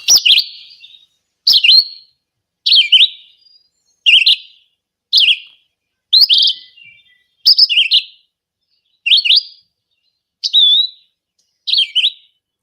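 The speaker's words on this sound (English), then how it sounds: "So this is the red-eyed vireo, and I'm playing this from the Merlin ID app," Red-eyed vireo song played back from a bird ID app: a series of about ten short, clear, high whistled phrases, each about a second apart with brief pauses between, loud and alone.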